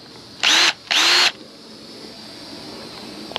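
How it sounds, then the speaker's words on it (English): Power drill running in two bursts, each about half a second long, loud and close, with a short pause between them and a quiet outdoor background afterward. "Drills are always a good thing to have around the house."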